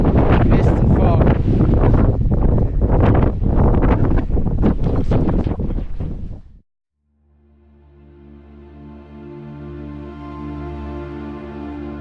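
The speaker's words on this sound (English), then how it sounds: "very strong winds, mist and fog" Strong wind on a misty, foggy mountain hike in southwest Tasmania roars loudly across the microphone, then cuts off abruptly and returns as a lower, steadier rushing drone.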